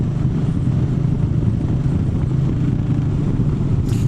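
Royal Enfield Meteor 350 motorcycle with a belt drive cruising at a steady road speed, a constant low engine drone with wind and road rumble throughout, smooth and unbroken, with no voices.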